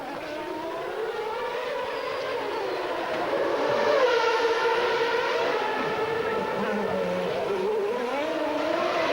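A 1994 Formula One race car tears past at Monaco's Grand Prix warm-up, its high-revving engine screaming in a sustained, rising and falling wail that swells loudest midway through and stays strong to the end.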